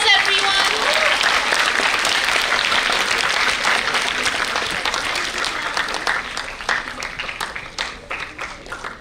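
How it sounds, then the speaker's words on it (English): Audience applause after a performance at a literary arts event, a loud, dense burst of many hands clapping that slowly tapers into thinner, more scattered claps, with some voices mixed in. "Let's have a huge round of applause, everyone."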